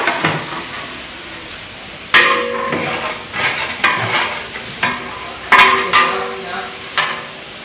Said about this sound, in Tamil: இப்போது நல்லா மிக்ஸ் பண்ணி விடுறாங்க